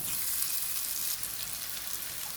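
Slices of bitter gourd (margoze) frying in hot oil, a steady, close, loud crackling sizzle that runs without a break, with no talking over it.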